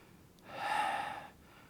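A single deep breath taken during a yoga core and legs session, one long airy exhale swelling and fading over about a second, close and clear with no talking.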